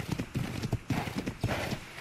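Horse hooves clip-clop in a steady, quick rhythm in Ark: The Lost Island, each footfall close and distinct over a soft game ambience.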